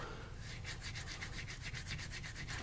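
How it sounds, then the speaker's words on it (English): Fine 1500-grit sandpaper rubs over brake pistons from a 1968 Plymouth Valiant, making a steady run of quick, even back-and-forth scrubbing strokes, close and fairly quiet, with no talking. "I'm gonna take some real fine sandpaper, some 1500 grit or something like that."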